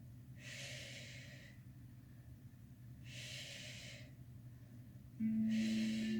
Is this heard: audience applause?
no